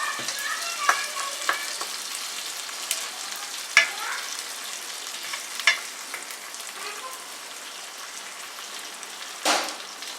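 Peeled tomatoes for pizza sauce sizzle and bubble in a pan at a steady low level, with a few sharper pops and spoon scrapes along the way.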